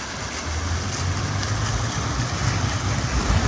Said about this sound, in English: Spend a few tranquil moments with the soothing sound of the fountains.